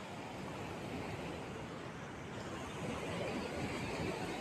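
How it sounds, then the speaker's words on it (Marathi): Sea waves wash steadily onto the beach at Ladghar village, a continuous broad rushing surf with a slight swell toward the end, with no voices. "हा आहे लाडगर गावचा समुद्र."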